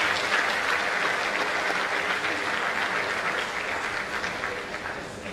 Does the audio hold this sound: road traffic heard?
no